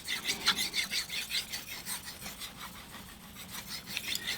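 A knife blade is stroked back and forth on a wet King whetstone with slurry building up, a soft, rhythmic rasping scrape repeating steadily and close, with no one talking.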